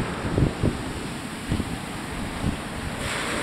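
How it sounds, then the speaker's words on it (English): Ocean waves and strong wind on a Maui beach in front of a hotel, with a steady roar of surf and white water and a few thumping wind gusts buffeting the microphone, no voices. "But look at the waves, how fast they're coming in. Lots of white water popping out there and lots of wind as well."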